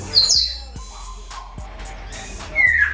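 Assorted caged birds in a Kuwaiti bird shop whistle and chirp in a few bright, short calls, one near the start and another near the end, over low background chatter and soft knocks.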